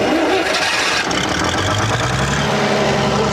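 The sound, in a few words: Leyland generator engine starting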